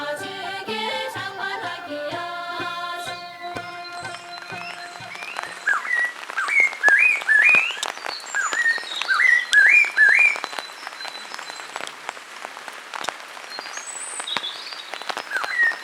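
Himalayan birds in a Sikkim forest trill and whistle in bright, repeated chirping phrases, rising to several lively overlapping calls midway and then thinning to scattered distant notes, with music fading out early on.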